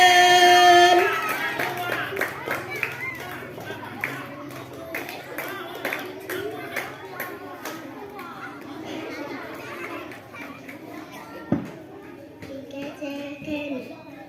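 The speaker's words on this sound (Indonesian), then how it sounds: "Beri tepuk tangan." A school audience at a language festival claps for a young storytelling contestant, the scattered clapping mixed with children's chatter and noise from a busy room.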